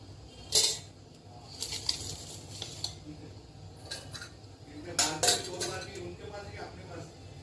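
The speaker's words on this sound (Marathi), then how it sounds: "आता मी पळीभर तेल घेतलंय." A ladle of oil goes into a metal pan for cooking ivy gourd in a home kitchen, marked by a few bright metallic clinks and scrapes of the ladle against the pan over a quiet background.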